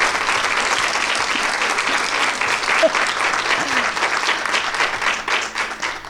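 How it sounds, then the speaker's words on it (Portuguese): Studio audience applause during a Women's Day special programme, loud and dense clapping from many people, sustained for several seconds with a few faint voices mixed in. "eu peço aplausos para Marta Fagundes e a Manu"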